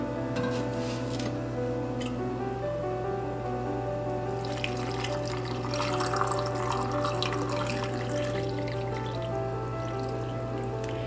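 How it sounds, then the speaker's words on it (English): Brine pours steadily into a jar of spicy pickled mango, a continuous trickling stream of liquid that swells midway, heard alone without talk. "Now let's do the very same satisfying pour"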